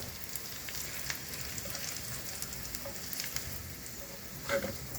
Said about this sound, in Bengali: प्याज को लाल करके फ्राई कर लिए